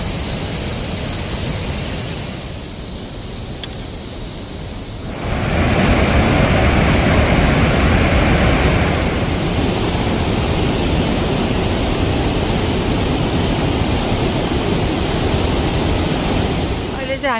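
A large mountain river on a trek in far-western Nepal roars steadily and loudly nearby, a continuous broadband rush with gusts of wind on the microphone.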